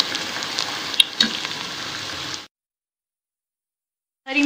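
Garlic ginger paste and onions frying in a pan for chicken biryani, a steady close sizzle with a couple of clinks for about two and a half seconds, then silence before the frying resumes at the end.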